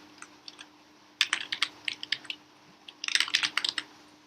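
Keys clatter on a computer keyboard as a formula is typed into an Excel spreadsheet, two quiet, close bursts of rapid keystrokes separated by a brief pause.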